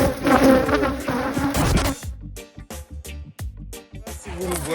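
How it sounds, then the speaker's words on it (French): Bees buzz loudly and close around a beekeeper at the hives, a dense continuous drone that breaks into pulsing, wavering passes as insects fly near. "J'ai des abeilles qui sont tout autour de moi."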